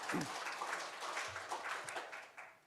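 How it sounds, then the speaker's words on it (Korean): Church congregation applauding during a Sunday worship service, a dense wash of clapping that fills the whole moment steadily and moderately loud, with a few low murmured voices underneath. "우리 하나님께 영광의 박수 올려드립니다"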